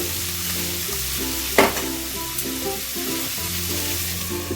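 Pumpkin pieces with turmeric sizzle steadily in a pan, broken by a sharp scrape of stirring near the middle, with no talking.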